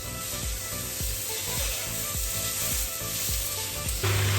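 Duck fat sizzling loudly in an overheated frying pan, a dense continuous crackle with regular soft knocks from stirring, close up with no talking.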